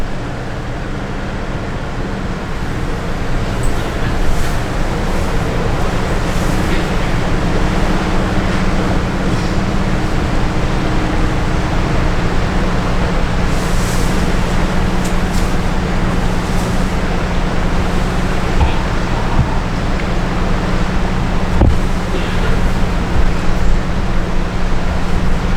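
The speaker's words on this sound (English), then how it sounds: "An honest to goodness Alaskan waterfall." Steady broadband roar of an Alaskan waterfall carries across the water to a cruise ship stopped offshore. The rush is continuous and even, with the ship's low engine hum droning underneath.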